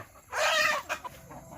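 A chicken gives a brief, fairly close clucking call in a rural rice-field setting during rain season, with quieter clucks trailing after it and no talking.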